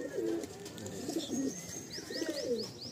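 Madrasi tournament pigeons coo in a steady series of soft, low throaty calls, close by, with faint chirps from other birds in the background.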